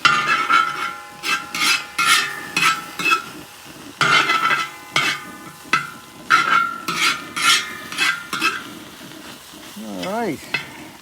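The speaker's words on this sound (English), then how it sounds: "You want to maintain that sizzling." Cabbage sizzles in a hot pan while shrimp fried rice is stir-fried. Loud, rhythmic scraping and tossing strokes come in regular bursts over a constant close sizzle.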